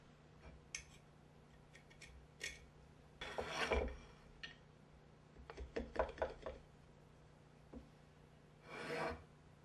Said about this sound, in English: Use a knife, chisel, or a file